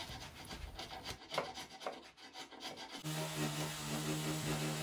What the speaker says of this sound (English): followed by sanding the inside and outside edges by hand